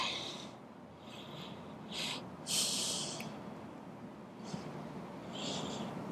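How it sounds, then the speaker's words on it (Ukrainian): Deep breaths drawn in and let out during a full-body stretching session, soft airy hisses of inhaling and exhaling repeated a few times, fairly faint over a quiet room background. "Ми робимо вдих і видих"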